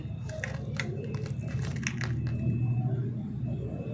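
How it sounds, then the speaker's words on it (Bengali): Raw fish being mixed by hand for a Bengali katla paturi recipe, soft wet squishing and squelching in a quick uneven rhythm, close up, with no talking. "এদিক ওদিক করে ভালো করে মাখালাম মাছগুলোকে"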